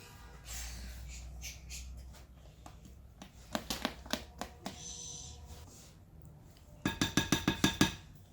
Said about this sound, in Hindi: अब मैं इसको स्पैचुला से भी बहुत अच्छे से मिक्स कर दूंगी ताकि ये एक जैसी हो जाए